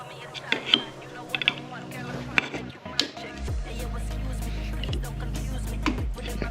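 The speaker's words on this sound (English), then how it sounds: "Pretty much I'm just gonna get in a crevice and just pry against the block." A tool prying a Kawasaki KZ900 motorcycle engine's cylinder head loose from the block during a rebuild, heard as sharp metallic clicks and scrapes over a low steady hum, close and moderately loud.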